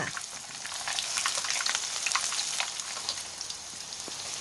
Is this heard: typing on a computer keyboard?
no